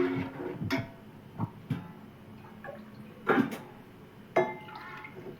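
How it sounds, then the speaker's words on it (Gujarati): Water poured and splashing into Manchurian gravy in a cooking pot at home, a few separate gurgling splashes and drips spread over several seconds, close and moderately loud. "થોડુંક પાણી આપણે નાખશું એમાં."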